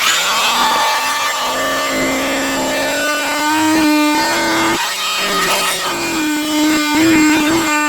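A power tool whines steadily and loudly at close range as it cuts a square out of a plastic cage panel, its pitch dipping and rising with the load, with no pauses across the whole stretch.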